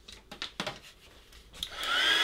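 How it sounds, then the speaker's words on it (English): A hair dryer blasts over a wet watercolour painting of penguins in an Antarctic landscape, a rising steady whoosh that swells in the last half second after a few soft handling sounds. "Quick blast with the dryer."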